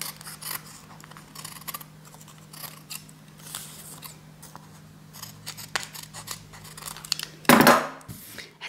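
Scissors cutting fabric for a half circle skirt, a run of soft close snips and rustles that ends in a louder crunchy cut near the end, heard alone.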